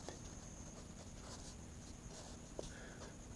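Chalk scratching on a board during a maths lesson, with soft irregular strokes and taps spread across the clip and one sharper tap near the end, all fairly faint against a light background hum.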